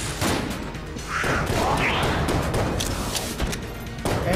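Dense, continuous gunfire and impact bursts from the video game Enter the Gungeon, loud and chaotic throughout.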